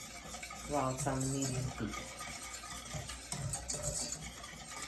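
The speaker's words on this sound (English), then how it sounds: "And you just keep whisking it" Cream custard being whisked in a pot over medium heat, with a steady scraping and stirring rattle throughout and someone talking over it.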